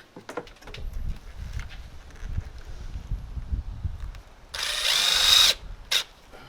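Brief whirring bursts from a power drill driving center screws into a tilted-in window during installation, heard over muffled handling noise on the jobsite.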